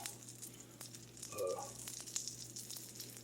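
Floured chicken pieces sizzle quietly in hot oil in a deep frying pan, a soft steady crackle with faint clinks, heard close but at low volume.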